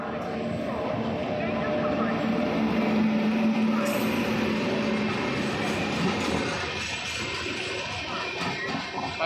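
Train noise at a station as the Dharmavaram–Hazur Sahib Nanded special arrives on platform 4: a steady, loud rumble with a brief squeal, under continuous station announcements and chatter.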